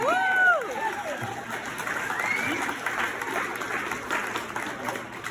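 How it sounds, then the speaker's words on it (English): Wedding guests at a roast give a round of applause, a dense, steady wash of clapping that fills the room for several seconds, with a few voices and cheers rising above it at the start. "Let's give her a big round of applause"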